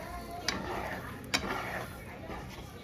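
A spatula scrapes and pushes eggs cooking low in a pan as cheddar cheese is stirred in, with soft sizzling throughout and two sharp clinks of utensil on pan, close up.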